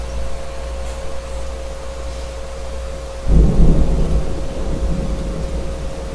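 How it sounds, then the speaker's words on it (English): Thunder rumbles in a thunderstorm, a low deep roll arriving partway through and fading slowly over steady background hiss and a faint electrical hum, with no talking. "I don't know if you can hear the thunder"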